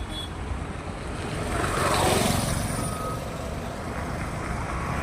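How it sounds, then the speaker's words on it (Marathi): A heavy road traffic jam of trucks and cars during heavy rain, heard as a steady, dense rumble of idling and creeping engines that swells briefly in the middle, with no talking. "खूप ट्रॅफिक जाम आहे."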